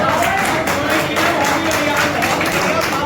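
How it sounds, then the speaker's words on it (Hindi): A crowd at a pigeon-racing trophy presentation claps steadily and loudly for the players, a dense patter of applause with voices talking over it. "ताली बजा दो खिलाड़ियों के लिए।"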